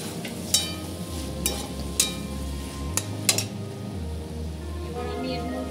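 Tomatoes frying with ginger garlic paste in a pan for chicken ghugni, a soft steady sizzle under a few sharp spoon clinks and scrapes against the pan, fairly quiet.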